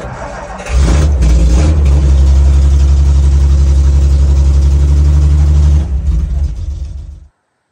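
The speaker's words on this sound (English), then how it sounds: "Foot on the clutch, choke out, bumper a few times, and hit your key." A classic Ford F100 mega cab truck on a Crown Victoria chassis cranks and fires up after a brief starter whir, then runs loud and close for several seconds before shutting off abruptly.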